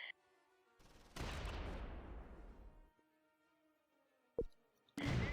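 Gunfire in the wartime tactics game Close Combat: a loud sustained burst of shots with a long decaying rumble, then quiet, a sharp single crack near the end and another loud blast cutting in at the close.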